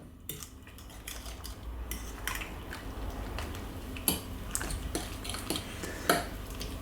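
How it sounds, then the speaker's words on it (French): A utensil stirring an Italian-style potato galette mixture with olives and parmesan in a dish, scraping and clinking against the container at an irregular pace, with a few sharper knocks, close and moderately quiet. "Là, je mélange."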